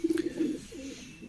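Pigeon cooing close by, a short low throaty burst of soft pulsed coos that trails off quickly, alone without talk.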